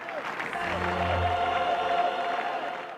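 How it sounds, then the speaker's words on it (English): A jubilant crowd at Pope John Paul II's funeral cheers and applauds in a steady, dense roar that carries through the whole stretch, with rhythmic chanting voices rising in the middle. "Jubilant crowds at the funeral of Pope John Paul II"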